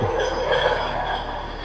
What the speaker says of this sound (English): There's a railroad truck.